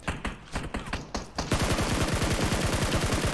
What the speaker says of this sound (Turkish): Bak şurada bir çatışma sesi var.